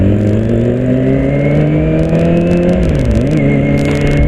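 A Kawasaki ZX25R motorcycle engine revving up close, a loud steady high-pitched drone that holds, dips briefly, then climbs again, with no talk.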